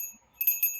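A bell chimes twice in quick succession, bright and ringing with sustained high overtones, fairly faint against a quiet background with no talking.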